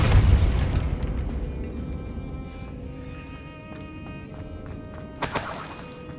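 A Depulso spell strikes in the video game Hogwarts Legacy with a loud, booming impact that rumbles and fades over several seconds, followed by a shorter crackling burst near the end.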